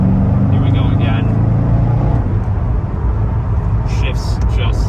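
A 2006 Chevrolet Corvette Z06's loud engine roars as it accelerates hard from 45 to 75 mph in fourth gear, its pitch climbing and then dropping into a steady high-revving drone.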